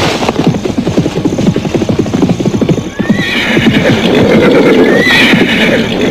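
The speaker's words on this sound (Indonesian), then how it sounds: "Dari kejauhan mereka mendengar derap kuda yang mendatanginya." Galloping horse hooves pound in a fast, close rhythm, then give way to loud, shrill neighing and whinnying from horses nearby, with no talk over the sounds.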